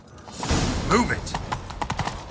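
A horse galloping in The Witcher 3, heard as quick, close rhythmic hoofbeats with a brief whinny, under a voice.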